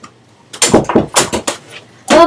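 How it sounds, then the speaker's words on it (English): A door being pushed shut inside a room, heard as a quick run of close, loud knocks and rattles that ends in one firm closing thud. "I'm gonna go shut my door real quick."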